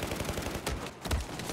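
Rapid bursts of automatic gunfire in the video game Battlefield 4 on PS3, close and punchy, firing in quick repeated volleys with a brief gap near the middle.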